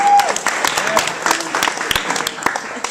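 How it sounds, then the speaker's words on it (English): Audience applause at a comedy open mic night, a steady patter of clapping hands from a small crowd lasting the whole stretch, with scattered voices and a brief whistle-like tone early on. "so give yourself a round of applause for that"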